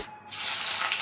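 Bay leaves and whole garam masala dropped into hot oil in a wok, a short burst of loud, broad hissing sizzle that swells after a brief quieter moment.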